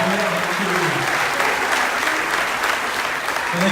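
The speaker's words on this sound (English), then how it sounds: "let's give them the rugged round of applause that they deserve for their service" Loud, sustained applause from a large crowd, dense clapping with some cheering mixed in, continuing without a break.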